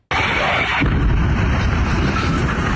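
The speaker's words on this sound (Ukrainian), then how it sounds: "невідомий об'єкт із швидкістю метеора падає з неба, вдаряється у землю, вибухає та утворює величезний вогняний гриб" Aircraft crash, with the plane striking the ground and exploding into a huge fireball: a sudden loud blast opens and gives way to a sustained, roaring, rumbling blaze that fills the rest of the moment.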